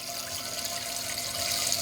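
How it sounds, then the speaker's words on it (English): Water rushes steadily from a hose into a water ice machine as it fills, a continuous close hiss and splash with no break and no voices. "Again, we use our water hose."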